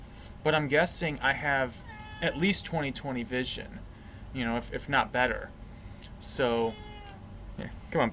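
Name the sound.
cat meowing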